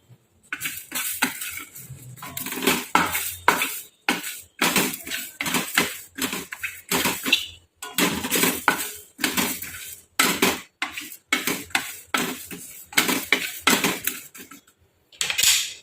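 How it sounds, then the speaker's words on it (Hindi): Whole coriander seeds being dry roasted in a hot pan, with a steady run of rattling scrapes and clinks as a utensil stirs them continuously, close and fairly loud, with no talking. "सबसे पहले जो मैंने अक्खा धनिया लिया हुआ था उसको ड्राई रोस्ट कर लेते हैं।"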